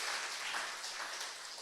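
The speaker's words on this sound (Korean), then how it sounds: "우리 모두를 위해서 한번 감사 박수 한번 할까요?" A church room full of people clapping together, a soft, even patter of applause at moderate distance with no voices.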